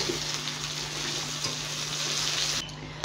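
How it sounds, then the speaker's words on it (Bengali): Onions dropped into hot oil with black mustard seeds sizzle with a steady, close, even hiss that continues without pause. "তেলটা গরম হয়ে গেছে, কটা পেঁয়াজ দিয়ে দেব।"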